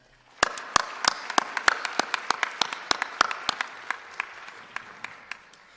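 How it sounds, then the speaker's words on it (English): An audience at an awards night applauds after a piano performance, with sparse, sharp individual claps standing out over a softer bed of clapping that gradually thins toward the end. "Let's give them another round of applause."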